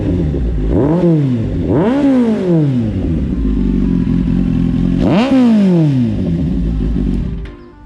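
A Kawasaki Z800 motorcycle revs hard and loud nearby, its engine note swooping up and falling back in repeated blips over a steady idle, then dying away at the end.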